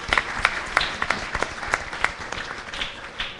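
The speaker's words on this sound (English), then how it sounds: "Let's give these people a wonderful round of applause, please." Applause rises from a church congregation welcoming first-time visitors at a Ram Mandir Ramayan Yagna gathering, a steady wash of many hands with sharper individual claps popping through, moderately distant and without talk.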